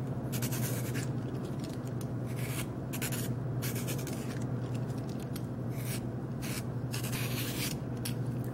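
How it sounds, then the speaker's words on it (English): A T-shaped peeler strips the rind from a watermelon in short, repeated rasping strokes, close and fairly quiet, with brief pauses between each pass and no talking. "I like T-shaped peeler because it just peels straight right out"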